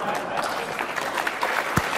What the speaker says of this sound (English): notice the tepid golf clap he got